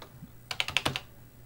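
A quick burst of about six close, crisp keystrokes on a Tandy Color Computer keyboard while a BASIC program is typed in, with no talk.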